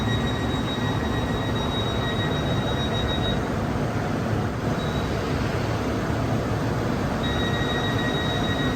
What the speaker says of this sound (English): They're double-decker trains.